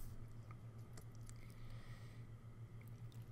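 Butter and cheese are stirred into shrimp risotto, giving soft, wet squelching and sticky squishes from the thick rice, close and quiet against a low steady hum.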